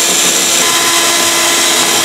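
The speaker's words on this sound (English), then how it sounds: "I'm going to grab my drill and we'll cut those out" A power drill cutting holes in a panel for an RV USB outlet install, giving a loud, steady, continuous whirring grind that holds without pause from start to finish.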